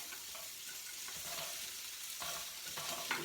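Four diced carrots sautéing in a pan for a vegetable stir fry give a soft, steady sizzle with gentle stirring and scraping throughout, fairly faint and with no voices.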